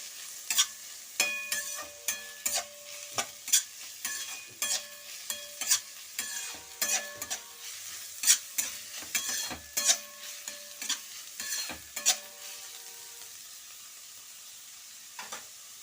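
Onions frying in a pan for gobi manchurian, with a quiet bed of sizzle broken by frequent sharp spatula taps and scrapes in an uneven rhythm.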